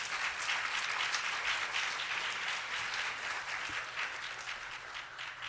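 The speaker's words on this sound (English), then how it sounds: "Can y'all help me welcome Christina with some applause?" Morning audience at a digital inclusion summit clapping to welcome a speaker, a full, sustained round of applause with slightly pulsing intensity, steady and fairly loud without speech.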